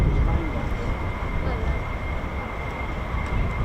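An F-15 fighter jet flies at an air base with a continuous low engine roar and rumble, steady and moderately loud throughout.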